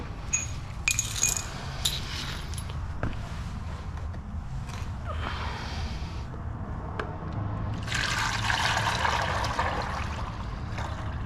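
Nissan CVT transmission fluid drained from a Versa Note or Sentra is poured into a measuring container, giving intermittent trickling and splashing bursts with small clinks over a low background hum.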